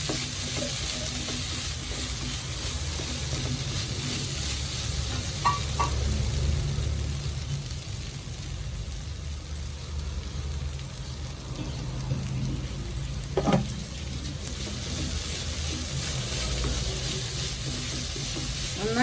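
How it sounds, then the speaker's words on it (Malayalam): Vegetables with a quarter spoon of cumin powder sauté in a pan for a vegetable samosa filling, a steady close sizzle running throughout with occasional scrapes and stirs of the spoon, and no voices. "നന്നായിട്ട് വഴറ്റി യോജിപ്പിക്കാം"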